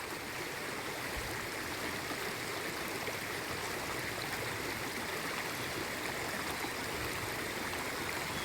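Cold mountain stream at Thandiani flowing steadily, a constant rushing and gurgling wash of water heard up close, even and unbroken with no voices.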